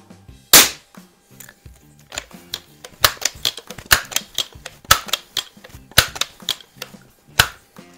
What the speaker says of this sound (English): we'll shoot 5 shots with this one at the left-hand target